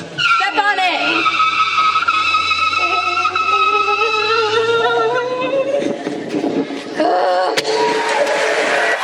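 Getaway car tires squeal in a stage sound effect at a middle school comedy show, long wavering skids with an engine drone beneath, loud and continuous, with a burst of crowd noise near the end.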